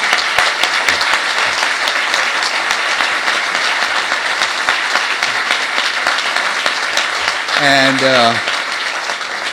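Large crowd applauds Governor Snyder at an outdoor construction groundbreaking, loud sustained clapping for most of the stretch, with a speaker's voice briefly rising over it near the end.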